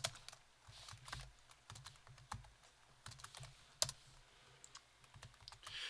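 Buttons on a graphing calculator are pressed in a quick series of faint, irregular plastic clicks and taps, heard alone.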